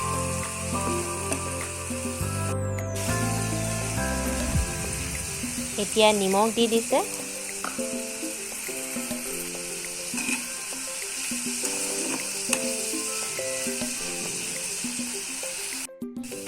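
Fish belly and eggplant with a little tomato fry in an oiled pan, giving a steady close sizzle with stirring clatter throughout, while someone talks over it.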